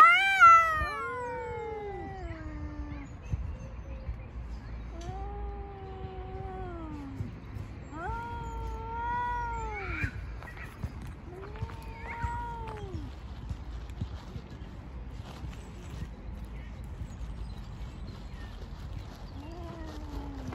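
Cats caterwaul in a fight, long rising and falling yowls drawn out one after another at close range, with short pauses between cries and a brief thump early on.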